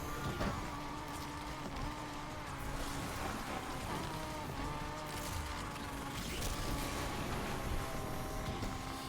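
A Mitsubishi Eclipse races in NFS Unbound, its engine a steady droning whine with tire noise and mechanical rattles underneath, continuous and fairly close, with no talking.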